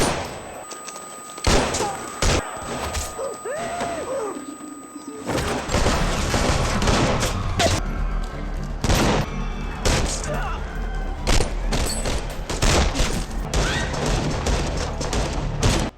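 Gunfire in a movie shootout scene, rapid bursts of shots and crashing impacts that follow a quieter stretch with tonal score, loud and dense, mixed with music and effects.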